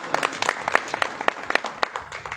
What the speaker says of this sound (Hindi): सब तालियां बजाओ उनके साथ